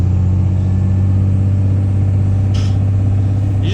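A 2006–2007 truck, low on power steering fluid, gives off a loud, steady droning hum with its engine rumble, heard close from inside the cab, with no one talking.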